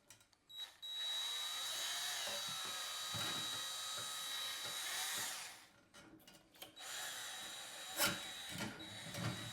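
A DrainShroom drain tool is turned down into a drain pipe by a power drill, a steady close whirring that stops midway, followed by knocks and scraping before it whirs briefly again.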